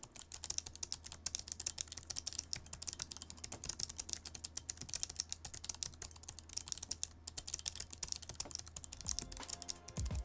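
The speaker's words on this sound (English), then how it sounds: "the keys also emit this weird, crispy, sizzling sound" Keys on a late-2016 Razer Blade Pro laptop with a GTX 1080 are typed on in a fast, continuous stream of faint, crisp, sizzling clicks over a low hum.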